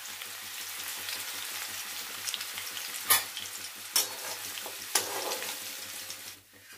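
Garlic dropped into hot oil, a dense continuous crackling sizzle with a few louder splattering pops and stirring bursts, ending as the frying quiets.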